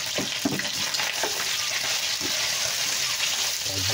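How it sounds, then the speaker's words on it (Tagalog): Plenty of chopped garlic sizzling in hot cooking oil for Filipino adobong puti, a steady close crackle with stirring clatter throughout. "Para ma-fry ka siya sa mantika."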